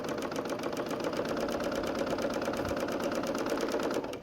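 A serger sewing machine stitches along the edge of a quilt, its fast, steady mechanical whir running continuously and close, with an even rapid rhythm throughout and no talking.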